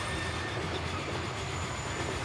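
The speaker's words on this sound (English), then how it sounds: "As you can hear, the squealing, the metal against the metal, the friction of the forces that are pushing against the rail." Steam train wheels squeal against metal rails in the Transport Fever game, heard as a steady, continuous rolling rumble with a faint high whine throughout, no voices.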